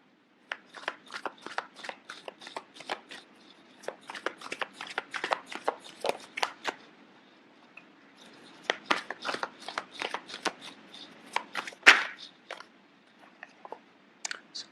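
Tarot cards being shuffled up close, with many crisp, rapid riffling snaps in irregular bursts and a brief pause partway through, no talking.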